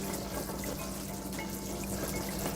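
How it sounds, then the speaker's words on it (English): Water and saffron being poured into a paella pan for a chicken and seafood paella, a steady close splashing wash of liquid throughout with no talk. "And so you add the water and the saffron,"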